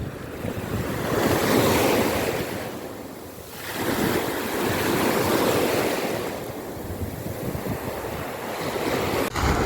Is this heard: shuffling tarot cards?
no